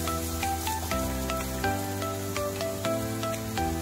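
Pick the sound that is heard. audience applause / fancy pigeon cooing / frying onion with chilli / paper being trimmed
frying onion with chilli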